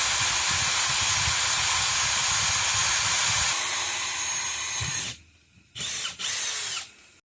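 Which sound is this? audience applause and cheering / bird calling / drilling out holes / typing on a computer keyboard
drilling out holes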